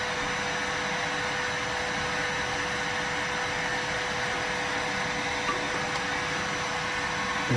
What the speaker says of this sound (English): now I just pouring some water in here, listen for a different sound in my vacuum